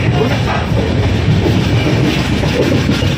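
A Mumbai local train runs loud and close, its rumble and rhythmic clatter of wheels on track filling the whole stretch without pause.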